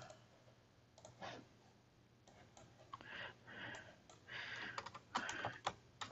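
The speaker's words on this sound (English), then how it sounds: "we're going to go ahead and type this in to our browser" Typing on a computer keyboard, quiet irregular clusters of key clicks that get busier and louder toward the end, close up with no speech.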